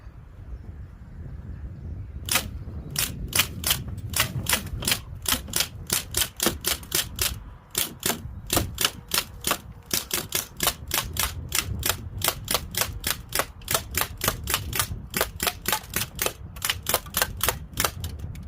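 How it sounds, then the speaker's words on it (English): Umarex MP40 air gun firing a long string of sharp, rapid shots, loud and close, with short pauses between bursts until the magazine runs empty. "Let's see if I can get a good few shots with it."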